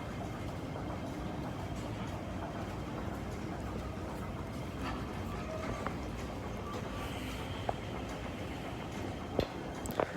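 A C-route light rail train runs at the Tin Yiu LRT stop in Tin Shui Wai at rush hour, giving a steady low rumble with a few faint metallic clicks and knocks near the end.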